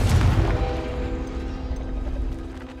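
A Confringo blasting spell in Hogwarts Legacy bursts with a loud, heavy boom at once, then rumbles and crackles as it fades over a couple of seconds.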